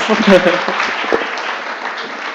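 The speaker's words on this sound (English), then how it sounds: "Give a round of applause" An audience at a campus discussion event gives a round of applause, a dense burst of clapping that fades gradually, with a voice speaking over the start.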